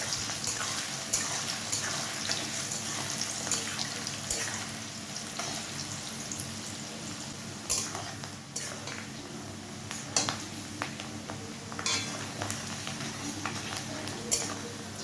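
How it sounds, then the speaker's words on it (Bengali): Chopped onions fry in a pan, a steady low sizzle with occasional clinks and scrapes of a utensil against the pan throughout. "পেঁয়াজটাকে ভালোভাবে ভেজে নিতে হবে।"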